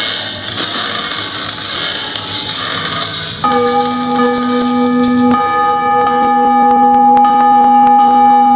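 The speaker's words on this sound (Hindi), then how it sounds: "मीनार के ऊपर लगा घंटा अपनी गहरी गंभीर घनघनाहट से खामोशी को चूर चूर कर देता" A large tower bell above the Cellular Jail in Port Blair tolls during a light and sound show, a deep sustained ring starting midway over orchestral music and lingering with a second strike, loud and resonant.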